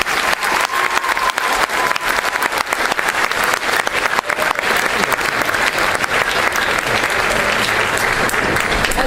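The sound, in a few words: applause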